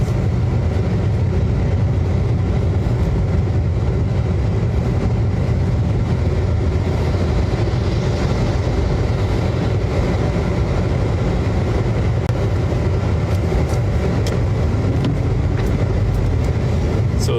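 Road traffic on a wet road in Grenada, heard from inside a vehicle: a constant low rumble of engines and tyres with a steady wash of noise that holds the same level throughout.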